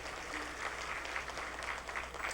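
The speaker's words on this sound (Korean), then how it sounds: "박수." Applause from a congregation at a Sunday church service, a steady wash of many hands clapping close by with no voices over it.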